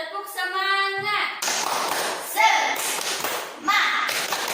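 Children in a primary-school classroom clap a rhythmic cheer pattern in unison, a run of quick close claps and thumps that alternate with short bursts of kids chanting, all fairly loud and near.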